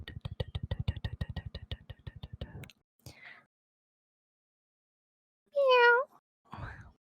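A voice imitates a cat with a single drawn-out meow after a run of rhythmic vocal noises and a brief pause, then a short grunt.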